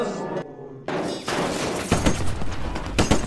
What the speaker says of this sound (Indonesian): saat mendengar suara tembakan dari luar